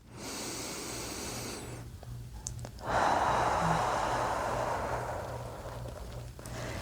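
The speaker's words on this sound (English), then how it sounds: "we're just going to take a couple deep breaths here" Deep, slow breaths during a bedtime relaxation stretching routine, heard as soft, airy inhales and exhales, close and quiet, with one fuller breath building in the middle.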